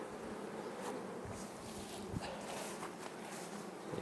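A honeybee swarm flying in the open near a wall it came from, a continuous soft buzzing hum of many bees at moderate distance, faint and steady throughout.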